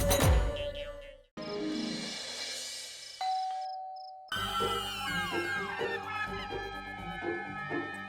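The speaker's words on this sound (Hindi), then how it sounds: "ये तो कोई सच में डोरबेल बजा रहा है।" An electronic doorbell chimes a melodic ding-dong tune, followed by a brief pause and another ringing sequence of bright bell tones, fairly close and clear.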